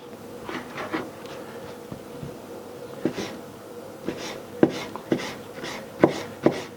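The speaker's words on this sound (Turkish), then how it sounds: "Öncelikle bunları küçük küçük doğrayacağız." A knife chops onions on a cutting board in irregular, crisp taps, a dozen or so cuts spaced unevenly, close and moderately loud.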